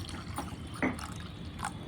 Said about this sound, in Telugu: ఫస్ట్ మనము చింతపండు పులుసులోకి కొన్ని వాటర్ యాడ్ చేసుకుందాము